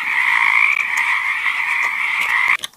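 Human voice imitating a frog's croak, one loud sustained buzzy call held for over two seconds, close up, ending abruptly with a few short clicks.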